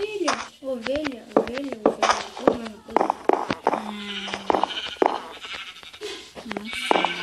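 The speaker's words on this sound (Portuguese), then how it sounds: "Opa, que ovelha. Ovelha." Sheep in a survival video game bleat repeatedly in short wavering cries, mixed with clicks and game sounds while someone talks over them.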